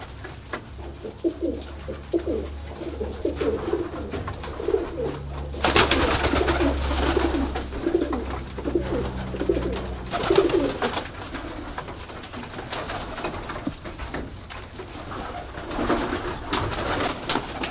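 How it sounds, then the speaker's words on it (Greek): Pigeons cooing at dusk at a loft, a continuous chorus of low, rolling coos from several birds, fairly close, with brief louder stretches. "Αυτά εδώ ήταν τα περιστέρια."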